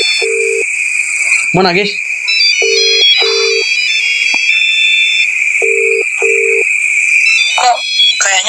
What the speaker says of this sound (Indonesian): Gue bisa denger ringtone-nya.